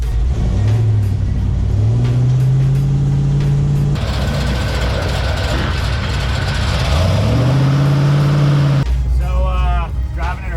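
A Chevrolet squarebody truck with a swapped port-injected engine and crossover steering drives along, its engine rising and falling through gears with a steady low drone, loud and close, with a voice talking over it.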